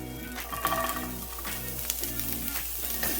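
Carrots hit a hot stir-fry pan for a chicken stir fry and sear with a steady, close sizzle. The crackle rises and falls slightly across the few seconds, and no one speaks over it.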